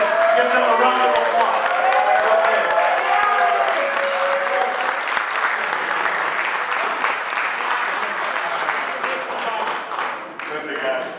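Audience at a fundraiser applauds, sustained clapping from a crowd mixed with a few cheers and voices early on, gradually thinning toward the end.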